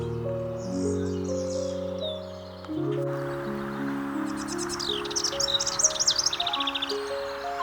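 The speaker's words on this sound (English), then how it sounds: "The preserve was also full of these singing northern house wrens." Northern house wrens sing at a spring nature preserve, bubbling rapid trills and chattering phrases repeating over several seconds, fairly close, layered over a steady background with soft low tones.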